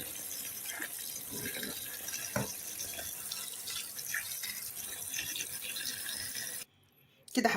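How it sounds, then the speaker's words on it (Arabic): Tap water from a kitchen faucet running steadily over okra being washed in a sink, a continuous splashing hiss with small clatters, cutting off near the end before a brief return. "هنفتح بقى عليها مية الحنفية"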